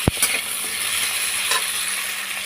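Chunks of taro root sizzling and frying in a pan with spice paste, a steady hiss filling the clip, with a sharp clunk at the start and a brief scrape of stirring just after.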